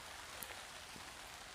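Steady rain falling in a forest, a soft broadband hiss of drops on leaves and ground with a few brief louder patters, heard alone and fairly faint throughout.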